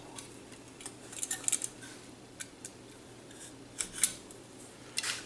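Scissors snip off the loose string ends on a rebuilt park bench: sharp, close metallic clicks in small irregular clusters, with quiet pauses between the cuts.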